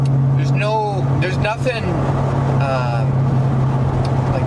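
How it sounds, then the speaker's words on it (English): A Dodge Charger Scat Pack with the super track pack pulls hard under acceleration, its exhaust a loud, steady, close droning note held throughout while someone talks over it. "Do another pull. Exhaust sounds amazing."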